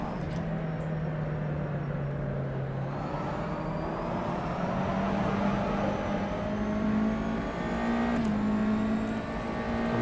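The engine of a USF 2000 race car in the rFactor 2 video game at Eastern Creek, a steady, close, droning whine that holds its pitch, dips, then climbs again through the gears, with no talk over it.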